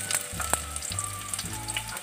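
Chopped onions hitting hot oil in a kadai, giving a sudden bright crackling sizzle that carries on steadily and close by, with no voices.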